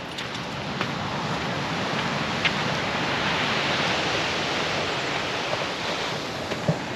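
Ocean waves wash onto a beach in a steady, broadband roar of surf with light wind, continuous and fairly close, with no talk.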